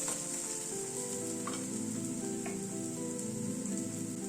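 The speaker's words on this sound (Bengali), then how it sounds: "ডালের পেস্টটাকে একটুখানি পেঁয়াজ রসুনের সাথে কষিয়ে নেব" Lentil paste fries with onion and garlic for a fish paturi dish, a steady close-up sizzle with occasional soft stirring scrapes and no talking.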